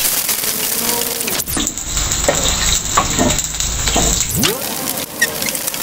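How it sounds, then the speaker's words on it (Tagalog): Garlic dropped into hot cooking oil in a pan for squid with chillies, a loud close sizzle that swells after a stirring clatter and keeps crackling steadily. "Mainit na po yung mantika. Gagay natin po yung bawang."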